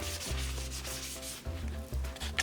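Skin on an arm is wiped with rubbing alcohol before a first tattoo, soft repeated rubbing strokes heard close and quiet over a faint low hum.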